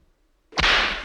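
A single sharp whip crack used as a sound effect snaps suddenly after a brief silence, then rings out in a loud, bright burst of noise that lingers for half a second.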